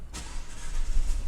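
A Jeep Compass engine turns over and catches, a short burst of starter noise settling into a low rumbling idle close by, with no speech.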